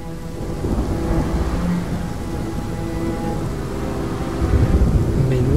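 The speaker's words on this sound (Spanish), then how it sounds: "Menuda tormenta, ¿no?" Thunder rumbles low and steady under a wash of heavy rain during a storm in the video game Rime, with a faint melodic tone drifting through and a stronger roll building near the end.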